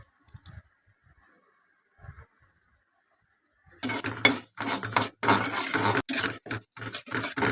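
Water poured into a pot of chicken curry and stirred with a metal spoon, loud clattering and scraping against the pot after a few quiet seconds of faint clinks.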